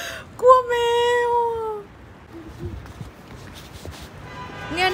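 A cat meows on a street, one drawn-out cry standing out close by, followed by quieter shuffling and faint background noise.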